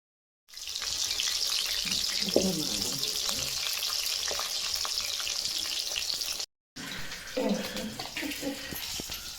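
Fish sizzles in hot oil in a pan, a steady close hiss broken by a brief gap, with faint stirring and clatter.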